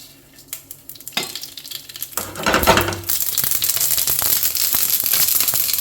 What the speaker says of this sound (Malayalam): കടുക് പൊട്ടുമ്പോൾ